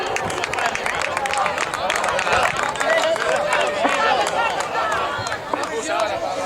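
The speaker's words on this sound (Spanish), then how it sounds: "Un fuerte aplauso para ellos." Sustained crowd applause and cheering for the senior men's beach handball champions at a trophy ceremony in Baiona, dense continuous clapping with voices and chatter mixed in throughout.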